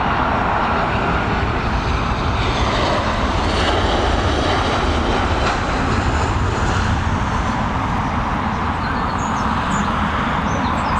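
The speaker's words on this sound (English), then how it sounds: "we got this Boeing 737" A Boeing 737 lands at Dublin Airport, its jet engines producing a loud, continuous roar that holds steady throughout.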